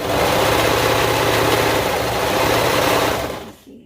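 A sewing machine runs fast and steadily, stitching fabric for a car seat cover with a dense, continuous mechanical whir close by before it slows and stops, with no talking.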